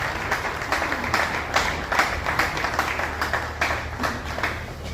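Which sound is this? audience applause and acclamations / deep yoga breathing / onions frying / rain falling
audience applause and acclamations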